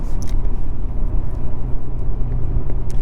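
Steady low road rumble and tire roar from a 2023 Audi RS5 Coupe cruising on the highway, a continuous broadband drone heard from inside the cabin with no talking.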